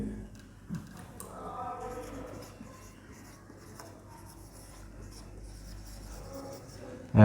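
Someone writes an equation by hand, with soft scratchy pen strokes in short irregular bursts, faint and close over a low steady hum.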